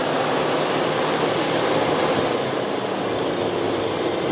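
A Plymouth Barracuda engine held at high RPM, a loud, steady, dense roar with no change in pitch, heard up close and alone.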